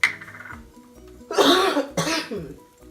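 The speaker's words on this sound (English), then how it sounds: "I'm still coughing" Two harsh, loud coughs close to the microphone after a brief quiet stretch, with some faint background hum.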